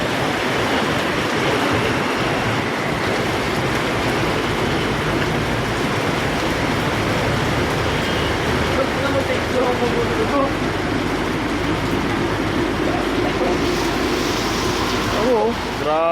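Heavy rain pours onto rushing floodwater that has risen like a sea around a raised spot, a dense, steady roar filling the whole scene with people talking over it.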